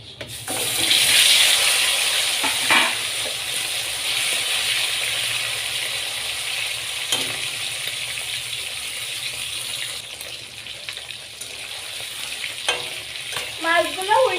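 Latha fish frying in hot oil, a steady sizzle lasting throughout with occasional scrapes and stirring clatter from a spatula near the end, close and fairly loud with no talk.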